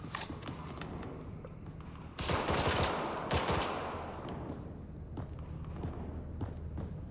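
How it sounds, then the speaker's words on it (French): Gunfire in a zombie survival video game, heard as bursts of rapid shots and thuds over a constant rumbling game ambience, with a louder cluster of firing in the middle. "on entend des tirs, c'est normal."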